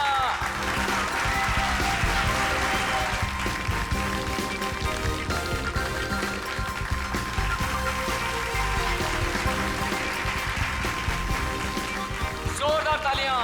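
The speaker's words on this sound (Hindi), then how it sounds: "जोरदार तालियां।" Sustained audience applause greets a magician's special act on a televised stage show, a dense steady wash of clapping under a loud voice and music throughout.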